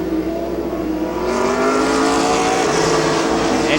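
Race cars on the Midvale Speedway oval, engines roaring loud and close, the note climbing steadily as they accelerate out of a turn, with no voices over it.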